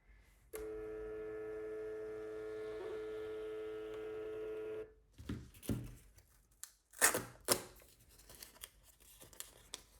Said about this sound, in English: and then I want to print this little guy